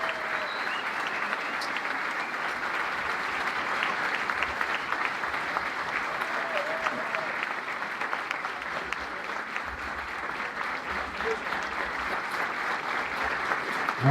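Sustained applause from a seated audience at a talk on science and worldview in Uruguay, a steady dense wash of many hands clapping without pause for the whole stretch.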